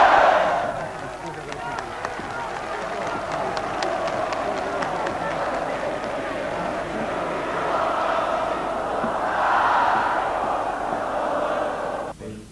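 A large welcoming crowd in Portugal in 1974 chants and cheers, a loud, sustained roar of many voices with shouts rising and swelling toward the end.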